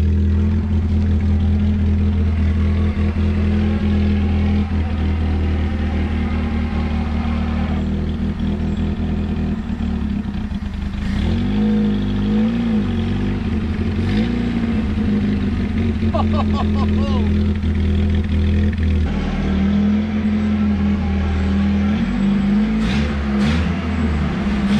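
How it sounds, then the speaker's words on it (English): An old, long-abandoned 1980 Datsun 720 pickup engine idling steadily, a loud low rumble throughout with occasional rev swells, while someone talks over it. "Old motor actually quieted down pretty good."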